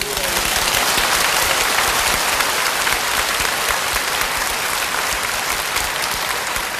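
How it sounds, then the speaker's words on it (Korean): A church congregation at a 25th-anniversary revival service claps together for Jesus, a dense, loud, continuous roar of applause that holds steady throughout. "이 예수님께 박수를 한번 드리십시오."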